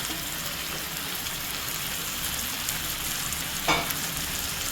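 Amaranth greens frying in a pan give a steady, close sizzle throughout, with one brief scrape of stirring near the end and no voices.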